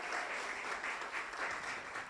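A church congregation applauds together during a Spanish-language sermon, a steady, dense wash of many hands clapping at moderate loudness with no voice over it.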